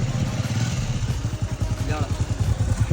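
A Bajaj Avenger motorcycle engine chugs in a steady, throbbing rhythm up close, with faint speech underneath.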